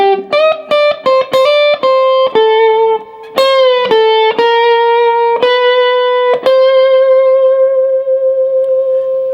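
Electric guitar plays a series of quirky, bending licks from a song's guitar solo, clean single notes with distinct picked attacks and a touch of echo, loud and alone, ending on a long sustained note.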